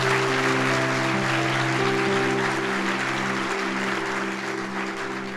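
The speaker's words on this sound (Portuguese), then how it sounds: "Pode dar um aplauso a Jesus." A church congregation at a Sunday service claps in a dense, even wash of applause. Sustained keyboard chords hold underneath the whole time, and the clapping eases off slightly toward the end.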